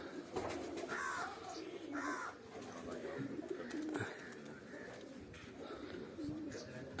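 English pigeons, racing birds in a loft, coo softly in low repeated throaty calls, fairly faint, amid other bird noises and background voices.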